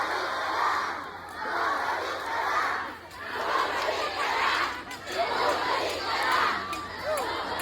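Large crowd at a campaign rally on the final night of the campaign, shouting a chant in unison in response, repeated loud bursts of massed voices rising and falling in waves.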